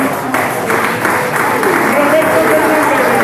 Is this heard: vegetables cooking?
no